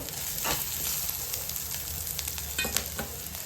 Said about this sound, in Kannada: ಸೊ ಇವಾಗ ನೋಡಿ ಮೀಡಿಯಮ್ ಫ್ರೈ ಮಾಡ್ಕೊಂಡಿದ್ದೀನಿ ನಾನು ಆನಿಯನ್ನ